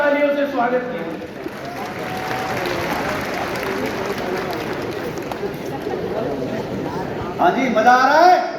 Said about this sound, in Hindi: तो सब लोग जोरदार तालियों से स्वागत कीजिए।